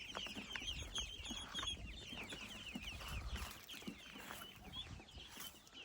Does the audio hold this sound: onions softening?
no